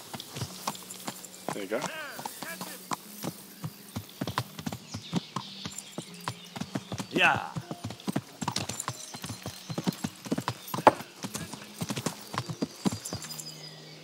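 Galloping hooves pound in quick, uneven beats throughout a ride in the medieval game Kingdom Come, near and prominent, with occasional snorts and a short spoken remark from a man.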